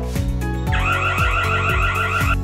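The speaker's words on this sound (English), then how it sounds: "the control panel will alarm at once. Let's test it. Arm. Go. 1. Burglar alarm." An electronic burglar alarm from a security control panel sounds up close, a warbling high-pitched siren tone over repeated lower beeps, loud and continuous.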